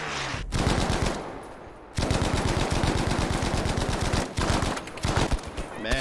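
Rapid automatic gunfire from Battlefield V multiplayer combat rattles in long, dense bursts, loud and close, broken by brief pauses between strings of shots.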